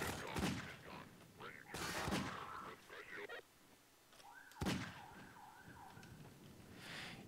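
Magnum revolver fire in Half-Life 2: three sharp, loud gunshots spaced a couple of seconds apart, with game noise and tonal effects filling the gaps between them.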